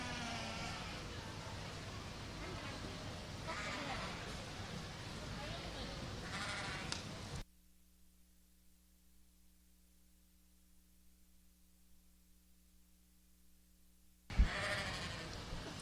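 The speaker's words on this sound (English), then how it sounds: "Let's bring in those first and second place yearling ewes, Charlene and Hillary." Romney yearling ewes bleat at a sheep show amid loud, hissing crowd and arena noise with talk, broken by a long near-silent stretch before the noise returns.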